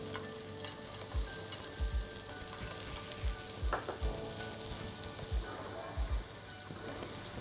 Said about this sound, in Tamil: சூடானதும் கொஞ்சமாக பொடியாக நறுக்கின வெங்காயத்தை எடுத்து இப்படி கல் மேலே தூவி விட்டுருங்க.